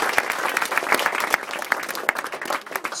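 Wedding guests applauding: dense, lively clapping from a roomful of people, loud and close, a steady burst of claps with no break.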